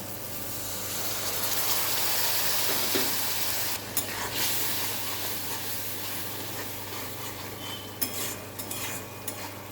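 Water poured into a hot pan of ivy gourd being sautéed, giving a steady hissing sizzle and steam with occasional spoon scrapes and knocks, close and continuous without speech.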